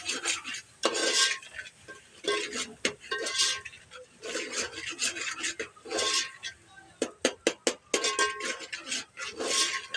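A spoon stirs turmeric into fish masala in a pan, scraping and rubbing against the metal in irregular strokes with a few sharp clinks, close and moderately loud.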